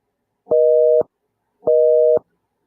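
Telephone busy signal from a dialed number that doesn't work: two loud, even tone bursts of about half a second each, separated by a short silence, clear and alone.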